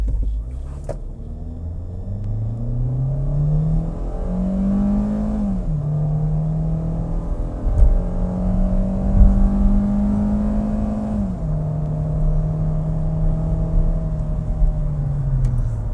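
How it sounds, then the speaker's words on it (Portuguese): A Kia Rio with an automatic transmission launches from a stall speed of about 1500 RPM and accelerates, its engine droning steadily as the pitch climbs through each gear change, heard from inside the cabin without talking. "1500 RPM a rotação de stall. Vamos arrancar nessa velocidade, Márcio."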